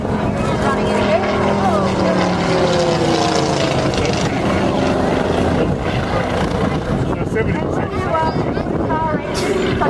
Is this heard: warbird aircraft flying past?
yes